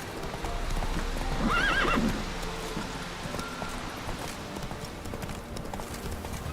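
In The Witcher 3 video game, a horse's hooves clip-clop steadily on the ground while it gives one clear whinny near the start, and the hoofbeats carry on afterward at a moderate, even pace.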